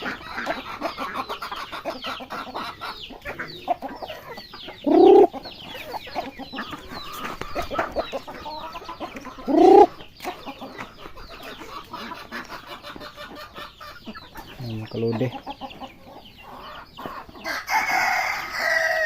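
Chickens cluck and chatter throughout a long stretch, with a few louder crowing calls rising above the steady farmyard noise.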